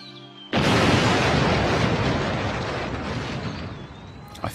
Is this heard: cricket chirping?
no